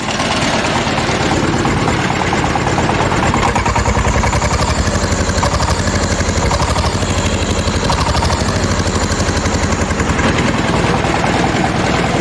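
A Shifeng 160 Turbo Intercooler tractor engine pulling a Virax 2-25 plow through a field, a loud, steady, continuous mechanical drone heard up close for the whole stretch.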